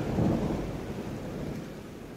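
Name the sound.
rain and thunder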